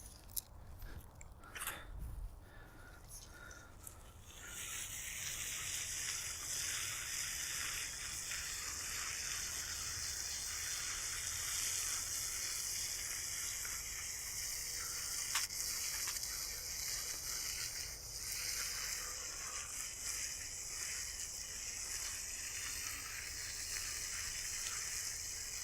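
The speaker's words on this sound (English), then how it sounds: "let's get this stuff watered in" A garden sprayer watering straw bales: after a few handling clicks and knocks, a steady hissing spray starts and holds for more than twenty seconds, close and fairly loud.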